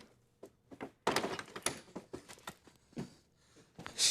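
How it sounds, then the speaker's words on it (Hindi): A door is pushed shut inside a home, giving a close cluster of knocks and clattering thuds with a sharper bang partway through, then a brief hiss of movement at the end. "Let me shut the door."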